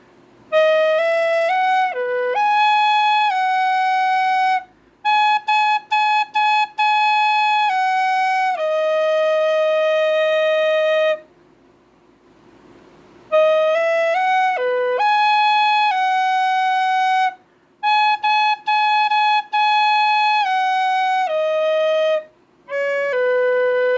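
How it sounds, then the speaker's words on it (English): A tin whistle plays a plain, unornamented melody, each note separated by tonguing, clear and close with short gaps between phrases. "Now on the tin whistle. Of course, without ornamentation, and use tonguing to separate the notes at first."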